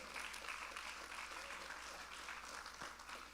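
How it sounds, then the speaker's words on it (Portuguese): A church congregation claps during a worship service, the applause faint and distant, forming a soft, even wash of clapping throughout. "aplauda"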